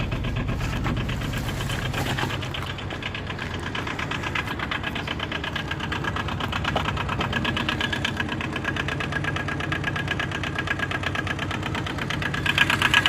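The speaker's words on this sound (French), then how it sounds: "on est sur un moteur qui est le Kubota Z482, modifié pour être aux normes Euro 4" A warm Kubota Z482 diesel engine, modified to Euro 4 standards, in a small license-free microcar, runs at a steady idle with a rapid, even knocking chatter, close and alone without talk.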